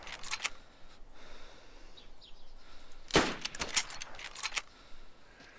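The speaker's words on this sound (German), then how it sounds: "Ich probiere auch einen Schuss." In the video game DayZ Standalone, a sharp burst of rapid gunfire cracks out mid-clip in Elektro, with a few scattered shots before and after against a quiet background.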